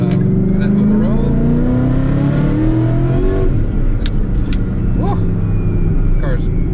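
A car engine revs and accelerates loudly up close on a cold day, its pitch rising steadily and then settling, with people talking over it and keys or small items jangling inside the cabin.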